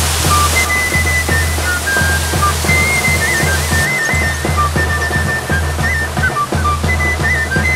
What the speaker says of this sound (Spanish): pequeñas caídas de agua de aproximadamente 3 metros de altura y que a lo largo de casi 100 metros caen por una ladera rocosa